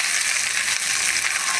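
Grated coconut frying in a pan, producing a dense, hissing sizzle that stays level and close for a brief moment, with no voices.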